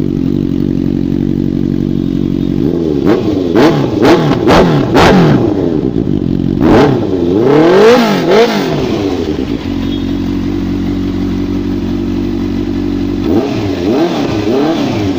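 A superbike engine at a Karol Bagh showroom in New Delhi idles, then snaps through a run of sharp, loud revs with one longer climb before it settles back to a steady idle, and a final blip comes near the end.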